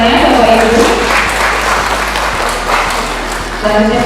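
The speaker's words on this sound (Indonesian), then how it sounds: "Boleh tepuk tangannya Bapak Ibu." An audience of teachers at an official training opening gives steady, sustained applause, with a voice speaking faintly over the clapping at the start and end.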